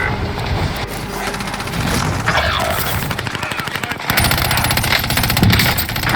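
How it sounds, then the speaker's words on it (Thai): Rapid bursts of automatic gunfire from a shooting video game crackle continuously and loudly throughout, with dense overlapping shots and a few heavier impacts. "ใครมันยิงตรงนี้เนี่ย"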